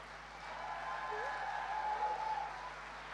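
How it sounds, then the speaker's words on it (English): A crowd applauds and cheers at an outdoor EuroPride 2009 rally in Zurich, a steady wash of clapping that holds for about three seconds at moderate distance. "Ein Riesenapplaus auch für sie."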